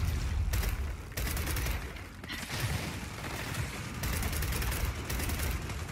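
Gunfire from the Xbox One shooter Gears of War 4 comes as dense, rapid bursts of rattling shots with brief gaps, layered over rumbling game noise and mechanical clatter, loud and close.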